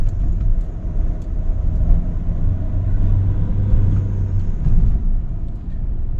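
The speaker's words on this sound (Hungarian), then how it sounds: "Ilyen szépen fölgyorsultunk." A 2.0 diesel Mazda 5 accelerates with a loud, steady low engine rumble and road noise from inside the cabin, swelling slightly as it builds speed.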